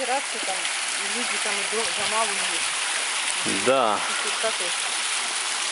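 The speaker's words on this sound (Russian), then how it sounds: "Скальный ручеек." A small rocky mountain stream flows beside a road, giving a steady broadband rush throughout while someone talks over it.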